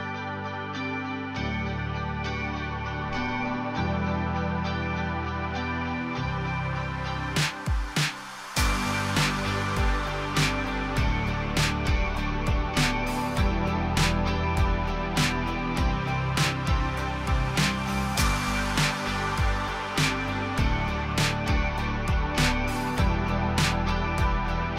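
Indie pop track with analog synth bass, drums and crashes, including a reverse crash swelling into a normal crash midway before the full beat continues steadily, no talking.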